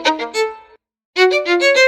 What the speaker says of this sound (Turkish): Bakın keman sesi böyle bir şey.